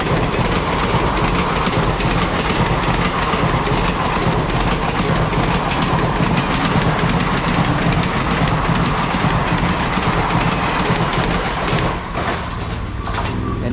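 A train rushes past on the railway track in Coimbatore, a loud, steady roar of wheels and carriages with rhythmic clickety-clack, very close and continuous before easing slightly near the end.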